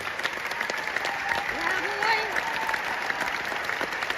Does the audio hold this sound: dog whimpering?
no